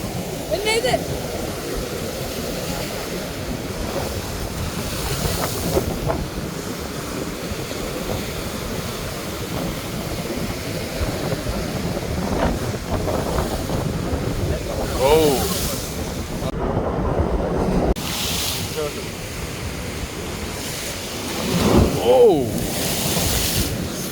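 Rough surf churns and crashes continuously during a storm off Jaffna, mixed with heavy wind buffeting the microphone.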